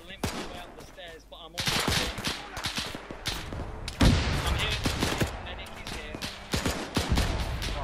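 Cannon fire booms amid a D-Day battle in the Arma video game, with heavy thuds and rapid gunfire crackling around a town under attack while voices shout over the din.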